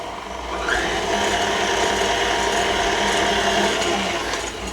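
An electric mixer beating whoopie pie batter with butter, a steady mechanical whirring with a fine rattling texture, close and continuous, no voices.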